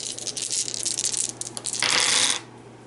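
Dice for a Pathfinder tabletop game rattle and clatter in a cup or hand, then tumble with a denser burst of bright clicking before stopping; the sound is close and loud.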